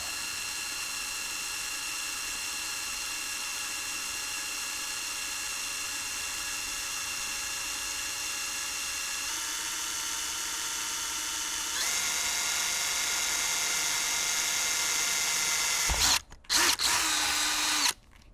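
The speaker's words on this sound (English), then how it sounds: "we're just going to run a 5/64 drill through it" A 5/64 drill bit runs through a soft steel plate from a Beretta Silver Hawk shotgun, giving a steady whine that rises in pitch partway through, then stops and gives a few short bursts near the end.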